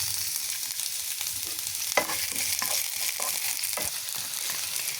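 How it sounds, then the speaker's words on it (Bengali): Green chilies and chopped onion fry in hot oil in a karahi, a steady crackling sizzle with scattered sharp stirring clicks and one louder scrape, close and without talk. "এইখানে আম্মু তেল দেওয়ার পর কাঁচামরিচ, পেঁয়াজ কুচি এগুলো দিয়ে দিচ্ছে।"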